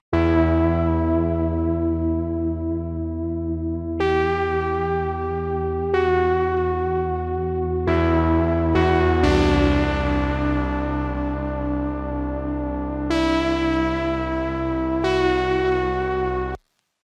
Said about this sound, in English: we have a really huge synth, which is playing a cool progression with a top melody on it